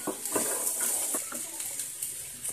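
Fresh peas stirred into onions frying in a pan for matar bhuja, a desi village snack, giving soft repeated scraping and clinking strokes over a steady sizzle hiss, close and moderately loud with no talk.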